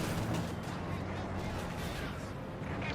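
Austrian pioneer infantry keep firing in the real-time strategy game Company of Heroes 2, dense overlapping gunfire merging into a continuous rumbling wash of battle, with talking over it.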